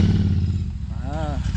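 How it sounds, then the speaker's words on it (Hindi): A motorcycle engine runs in the hills of Sikkim before a ride, a low, steady chugging rumble heard close by, with a voice briefly rising over it near the end. "तो ये बाइक में अभी अपन लोग जाएंगे"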